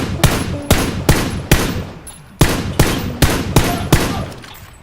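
Gunfire in PUBG: Battlegrounds, a string of about eight loud, sharp shots fired in uneven single and double bursts, each with a short echoing tail.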